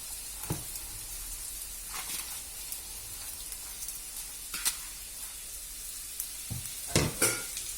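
Flattened rice upma being stirred in a hot pan, a faint ongoing sizzle broken by scattered scraping clicks of a spoon against the metal, sharper scrapes near the end, no talking.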